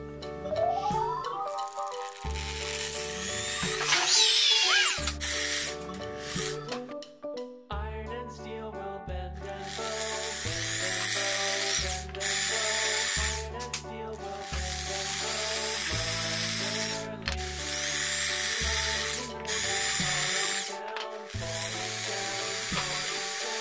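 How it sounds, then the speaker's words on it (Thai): A small electric drill whirring in bursts while boring holes to make a doll keychain, its pitch shifting as it bores and stops and starts repeatedly, close and fairly loud. "เราต้องใช้สว่านเจาะค่ะ สว่านเล็กๆนะคะ"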